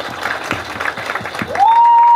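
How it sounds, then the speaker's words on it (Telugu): Audience applause at the Theracheppa film press meet, a burst of steady clapping from the gathered crowd that runs for about a second and a half before a loud sustained feedback-like tone takes over. "And big clap for తెరచాపా please."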